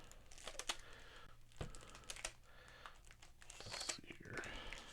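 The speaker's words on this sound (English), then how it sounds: "They've got them all in individual plastic bags" Plastic bags holding 1914 Fatima sports cards crinkle and rustle as they are handled, with soft crackles and light taps, faint and close, under occasional low talk.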